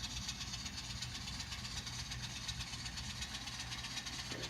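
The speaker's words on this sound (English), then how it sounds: "The locomotives come through that back stretch and into this corner." N scale model locomotives rolling along a layout track, a steady low whirring hum with faint rhythmic clicking from the wheels, continuous and quiet throughout.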